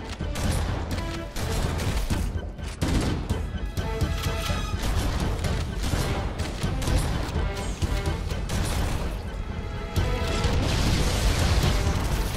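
A Halo: Combat Evolved firefight with explosions, crashing booms and bursts of gunfire layered densely and continuously at high volume, with no clear pauses throughout.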